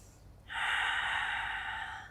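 One audible breath drawn in during a Pilates stretch, then a long, steady airy exhale, soft and close, with no talking.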